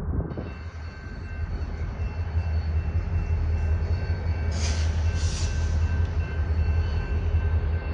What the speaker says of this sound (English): the dog food local is delivering some train cars into the switch